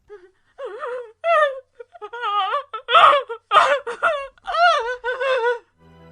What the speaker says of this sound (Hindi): उसी समय सभा के एक कोने से रोने की आवाज आई।